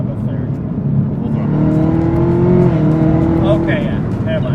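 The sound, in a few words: Chevrolet Camaro ZL1 accelerating at full throttle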